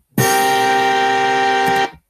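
A keyboard's trumpet voice plays one sustained chord for under two seconds, a bright, brassy blare that starts and stops abruptly and sounds much like a car horn honking, alone with no talk.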